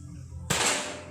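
Air rifle shot fired during an accuracy test on a target, a single sharp crack that cuts in abruptly and rings off broadly, heard alone.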